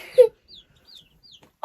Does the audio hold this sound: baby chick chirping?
yes